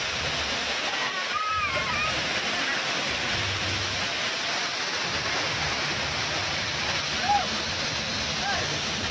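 An artificial waterfall at the Black Thunder water park in Coimbatore pours in a steady, dense roar of falling water, with brief splashes and distant voices scattered through it.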